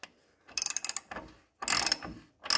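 Ratchet wrench tightening bolts on a 1990 GMC Sierra truck, two loud bursts of rapid clicking strokes with a pause between, then a third burst starting at the end.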